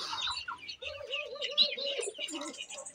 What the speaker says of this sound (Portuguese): Aqui tá nossos pombos guinéis